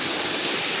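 Heavy rain pouring down during a flood, a dense steady hiss and rush of water filling the sound evenly and loudly, with no talk.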